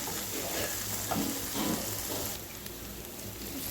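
Vegetable being stir-fried with roasted peanut powder in a pan, a continuous soft sizzle with a few scraping stirs, close and alone without speech.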